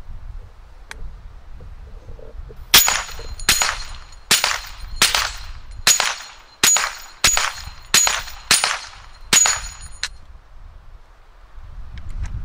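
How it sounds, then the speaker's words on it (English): A Browning SA-22 semi-automatic .22 rifle fires ten sharp, loud shots in a steady string, each crack spaced roughly half a second to a second apart, with quiet ambient background before and after. "Now this holds 10 rounds. It's already loaded up. Let's start shooting."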